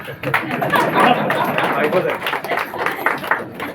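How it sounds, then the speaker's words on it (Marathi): Steady clapping from a group of people mixed with lively chatter, continuous and fairly loud throughout. "टाळ्या मारू"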